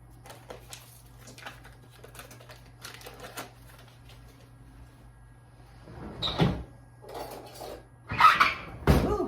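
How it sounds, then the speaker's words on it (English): A kitchen drawer slides open and shut in a home kitchen, with faint clicks and knocks first and then louder scraping, squeaking runs and a final bang; no voices. "That drawer makes a terrible sound"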